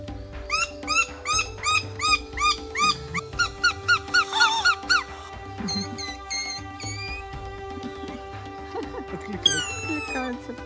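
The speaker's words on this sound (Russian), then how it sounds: "Откликаются птицы." Birds call deep in the Amazon jungle of Ecuador, opening with a steady run of hooting, owl-like notes before shifting into varied whistles and trills, clear and fairly close.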